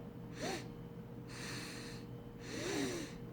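Three sharp sniffing in-breaths through the nose, taken close and fairly quiet, spaced about a second apart with a faint low hum behind them.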